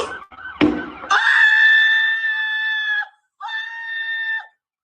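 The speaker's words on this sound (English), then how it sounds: "Now, the person screaming," A shocked bystander lets out a loud, sustained high-pitched scream right after a sharp burst of noise, then a second shorter scream follows after a brief pause, heard alone with no talk.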